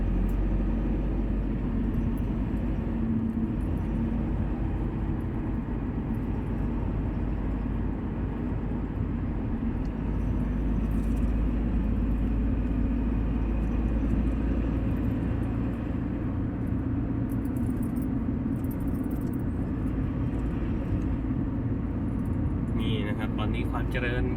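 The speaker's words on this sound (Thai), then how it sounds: "รถเลี้ยวนะครับ" A car rolls along a rural road in Khao Chamao district, Rayong, Thailand, as it turns. A constant low engine and road rumble is heard from inside, with a voice speaking at times over it.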